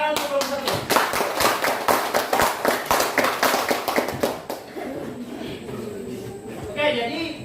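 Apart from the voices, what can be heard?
class clapping for group 1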